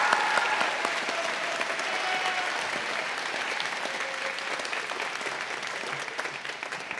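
A big round of applause for an honoree at a naturalization ceremony in a high school, many hands clapping continuously from a sizable crowd, steady and full before gradually thinning slightly toward the end.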